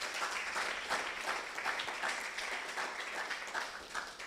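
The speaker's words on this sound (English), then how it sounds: "Can you give yourselves a round of applause?" Guests at a youth debate launch event clap for themselves, a dense, sustained round of applause from a sizeable crowd that holds at an even level throughout, with no speech over it.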